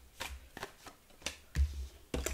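Several quick riffling bursts of tarot cards being shuffled, spaced irregularly, close and fairly quiet, with no talking.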